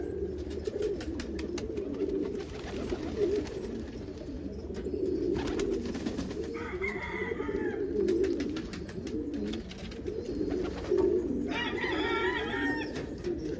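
Pigeons coo repeatedly in a loft, a low rolling murmur that stays steady throughout, with a rooster-like call and some fluttering in the background.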